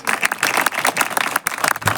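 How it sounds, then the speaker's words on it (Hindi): Audience applause for poet Ashok Chakradhar at a university literature festival, a thick, continuous wash of many hands clapping at close range, steady and loud from start to finish. "आई थिंक सिर्फ एक तालियों की गड़गड़ाहट से ही हम एक धन्यवाद कर सकते हैं अशोक"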